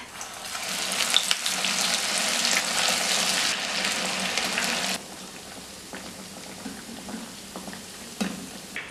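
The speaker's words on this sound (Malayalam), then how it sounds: "നന്നായിട്ട് ഫ്രൈ ആയിട്ടുണ്ട് നമുക്കിത് എണ്ണയിൽ നിന്ന് കോരിയെടുക്കാം" Oats vada deep-frying in hot oil: a steady, dense sizzle and bubbling that drops to a quieter crackle partway through, with a few soft knocks, close and with no talking.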